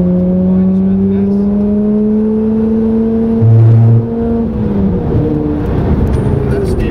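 A car engine revving and accelerating during driving with heel-and-toe shifting, rising and falling engine tones heard from inside the car, with a brief low burst midway and an instructor talking over it.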